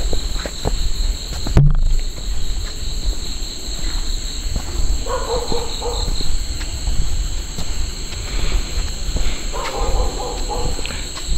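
Frogs calling on a mountain path at night, mixed into a steady chorus of insects, with a brief rustle near the start and clusters of croaks surfacing twice mid-way, moderately loud and continuous.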